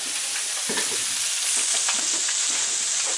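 Fermented fish (kua pla daek) being stir-fried in a pan gives a loud, continuous sizzle with faint stirring scrapes throughout and no voices.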